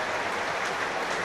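Rugby league fans of Wigan and Hull FC applaud in a stadium at a Challenge Cup semi-final, steady distant clapping filling the air without a break.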